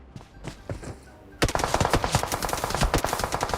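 Rapid automatic gunfire in PUBG Mobile, preceded by a second of quieter distant shots, then a close, loud, sustained burst of rapid shots lasting to the end.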